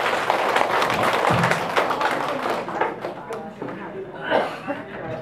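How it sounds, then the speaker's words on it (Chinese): An audience at an adult scripture-reading class breaks into a brief round of clapping that fades after a few seconds, as voices talk over it and carry on once it ends. "掌声鼓励"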